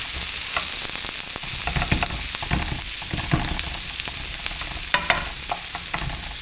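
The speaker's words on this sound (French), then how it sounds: "Là, je viens de rajouter de l'ail, du gingembre. Les poivrons, ils commencent à être pas mal grillés." Peppers, onions, garlic and ginger fry in a pan with a steady, close sizzle, broken by occasional stirring scrapes and a few sharper crackles, with no voices.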